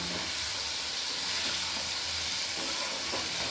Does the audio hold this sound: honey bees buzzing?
no